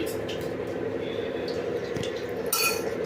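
A pressure cooker is set down on a kitchen stove while oil is added, giving a short metallic clink late on amid soft kitchen clatter, with a person speaking throughout.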